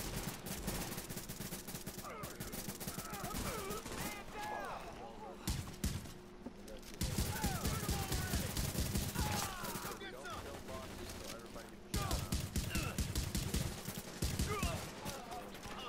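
Gunfire in The Division video game, dense rapid bursts of automatic shots running almost continuously, broken by brief pauses, with players talking over it.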